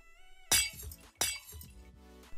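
Glass panes breaking in Minecraft, two sharp shattering crashes about half a second apart, each with a ringing tinkly decay over a steady background tone.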